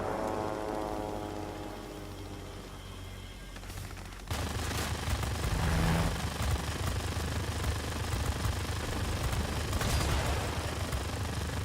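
Rapid automatic gunfire from the XP-72 fighter plane in World of Warplanes rattles on in a continuous loud stream over the aircraft engine drone, with a sharp jump in intensity partway through as firing intensifies.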